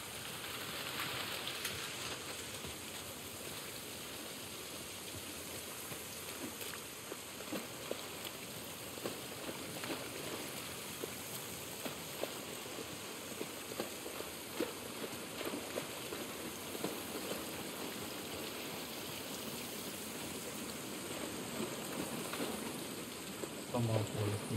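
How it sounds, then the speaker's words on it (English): Steady rain falls outdoors in the video game The Last of Us Part 1, a continuous soft hiss with scattered drips and patters throughout, fairly faint and unbroken. "This rain ain't gonna do us any good."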